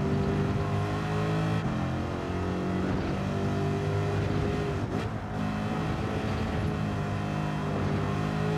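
A Chevrolet Corvette C7 with a seven-gear transmission drones loudly in a racing video game, its engine note holding a steady, dense roar throughout, with a brief dip around the middle.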